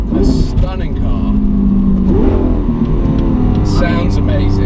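Lamborghini Aventador SV engine revving, a loud, close, deep roar that swells and shifts pitch, with people talking over it.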